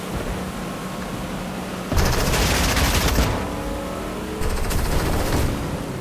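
Rapid automatic gunfire in Fortnite, two loud bursts of close shots over a steady background rumble, each lasting about a second.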